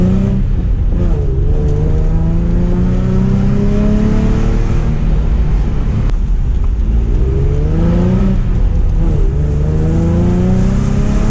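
Nissan 350Z revving and drifting, its engine rising and falling in repeated sweeps of throttle, loud and close throughout with tire noise underneath.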